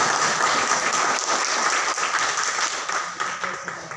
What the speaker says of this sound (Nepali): म तपाईँहरूको जोरदार ताली चाहन्छु हेल्दी लिभिङ नेपालको लागि